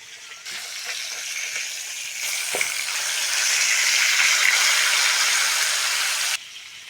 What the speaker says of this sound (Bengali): মাছ ভাজার জন্য কড়ার মধ্যে তেল দিয়ে দেবো।